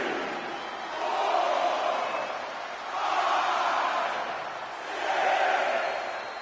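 A wrestling crowd in the video game WWE 2K24 roars in three swelling waves, a dense rolling cheer rising and falling every couple of seconds.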